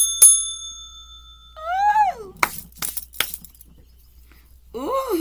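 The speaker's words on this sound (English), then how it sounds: "where's my bell?" A small hand bell rings once with a bright, sustained tone that rings out, followed by brief clinks and a voice speaking with rising, drawn-out intonation.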